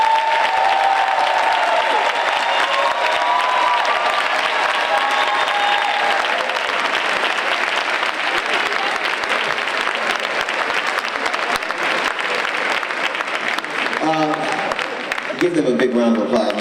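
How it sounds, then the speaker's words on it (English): A large audience at an MLK Day 2017 comedy event gives a loud, sustained round of applause with some cheering. A voice speaks over the clapping near the end. "please give a round of applause for Mr."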